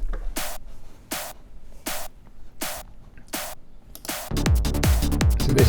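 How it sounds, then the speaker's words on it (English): Layered snare drums with overdrive and compression hit in a slow, evenly spaced pattern of sharp, loud, crunchy cracks. A dense, busier burst of hits follows at the end. "So now all the snares together sound like this,"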